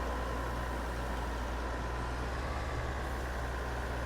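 A combine harvester engine starts and runs during unloading in a farming video game, a steady close low mechanical drone with a constant hum throughout and no talk.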